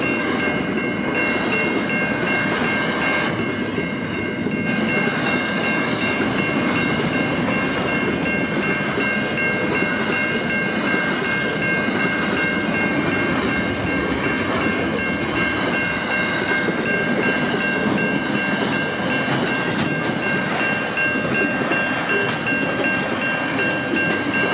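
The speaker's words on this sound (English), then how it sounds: "Goes the container goods. My last goods train at Anakin Road crossing." A long container goods train rumbles past close by at a level crossing, with continuous rolling and clattering wheels and a steady high ringing tone, sustained for the whole stretch.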